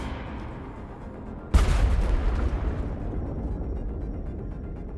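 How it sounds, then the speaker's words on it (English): Proton torpedo launched in the space combat game Earthless, a sudden heavy boom that hits loud and then rumbles away over a couple of seconds against a droning background. "Do the proton torpedo here."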